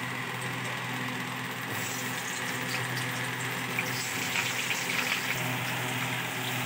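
Potatoes frying in hot oil in a wok, a steady, even sizzle like rain on a surface that holds at a moderate level for nearly seven seconds with no talk.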